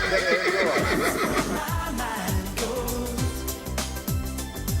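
A horse neighs loudly and close by, its whinny rising and then falling in pitch with a shaky, wavering tone. It sounds over a music track heard on a 1994 television show.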